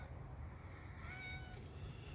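A cat named Shadow gives a single faint, drawn-out meow, distant and quiet over a low steady background hum.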